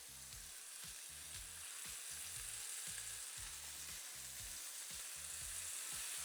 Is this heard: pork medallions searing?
yes